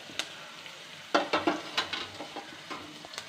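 Tomatoes dropped into a hot frying pan for a coconut-milk sardine curry, a soft sizzle under a string of clattering stirs and scrapes against the pan, close and without talk.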